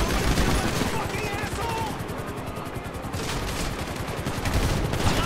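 Rapid bursts of gunfire from Grand Theft Auto V crackle in dense, repeated volleys at a construction site. A voice shouts over the shooting.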